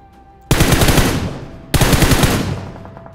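Two long bursts of rapid automatic gunfire in a first-person battle royale shooter, each starting abruptly and rattling for over a second before trailing off, loud and with no talk over it.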